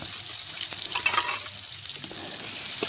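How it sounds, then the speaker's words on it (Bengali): Chopped onions, whole garam masala and two bay leaves hit hot mustard oil, giving a steady hissing sizzle with faint crackles, close and continuous without speech. "সরষের তেল ভালোভাবে গরম হয়ে গেছে, দিয়ে দিলাম গোটা গরম মশলা, 2 টুকরো তেজপাতা, দিয়ে দিলাম পেঁয়াজ কুচি"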